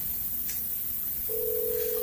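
A telephone ringing unanswered on a call to a seller about a discounted apartment, heard as a faint single-pitch ring tone that begins partway through over a low background hum, with no talk.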